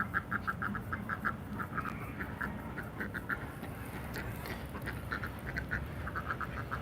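A flock of ducks quacks repeatedly nearby while being fed, with many short overlapping calls over a steady outdoor rustle and background noise.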